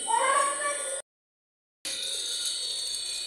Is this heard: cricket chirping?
no